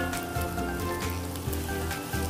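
Chopped onions sauté in hot oil in a pan for ampalaya con carne, a dense, steady, close sizzle that crackles continuously with no pauses and no talking.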